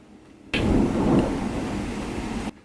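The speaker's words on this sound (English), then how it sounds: "Holy ravioli, that's thunder." A single thunderclap bursts out suddenly and rolls on as a loud, deep rumble for about two seconds before it cuts off. No one speaks over it.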